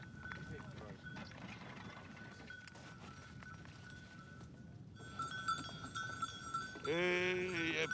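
A lamb bleats loudly near the end in a rural outdoor setting, its wavering cry rising over steady background noise and faint tonal ringing.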